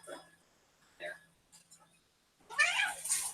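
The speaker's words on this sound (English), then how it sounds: "my cat was causing trouble behind me" A house cat makes a few short meows and chirps close by, fairly faint, with a louder, longer yowl near the end; someone talks quietly in the background.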